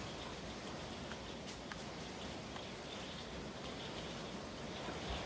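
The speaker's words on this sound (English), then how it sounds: "I don't know if you can hear that. It's freezing rain again." Steady, dense hiss of precipitation pattering without a break, a constant wash of sound with faint scattered ticks on top, no voices.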